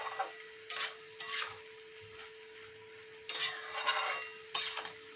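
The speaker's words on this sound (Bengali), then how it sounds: "এটা ভালো করে নাড়িয়ে দেবো।" Radish vegetable curry with a little batasha sugar is stirred in a pan, giving several bursts of close spoon scraping and sizzle separated by quieter pauses, over a steady hum.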